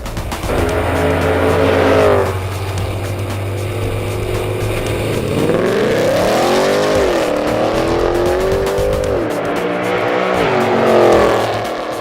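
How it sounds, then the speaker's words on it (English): A Mercedes CLK Black on semi-slick tyres, rear-wheel drive, runs a quarter-mile drag strip, its engine loud and sustained as it climbs through the gears with rising and falling pitch, close and continuous with no talk. "the CLK Black hit 100 kilometres per hour in under 4 seconds and hammered down the quarter in under 12 seconds"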